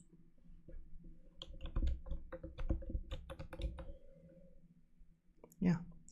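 Keys tapped on a computer keyboard in a burst of quick, uneven clicks, with a soft voice murmuring over the typing and one louder thump near the end.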